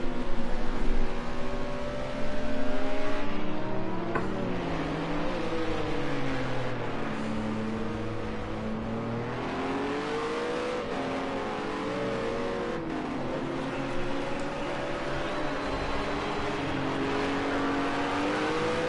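GT race cars, GT4 class among them, at Donington Park on the start-finish straight, their engines droning and rising in pitch as they accelerate past, steady and fairly loud throughout.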